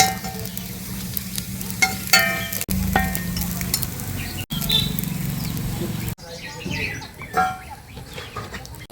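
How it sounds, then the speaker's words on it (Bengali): Semolina frying and being stirred in a pan, a sizzling hiss broken by scraping stirs, in several short cuts of close-up cooking sound. "আবারও কিন্তু ওইভাবে একটু ভেজে নেব"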